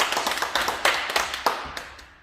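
A small group of people clap briefly after a workout session, a quick run of a dozen or so sharp claps that thins out within two seconds, fairly close but not loud.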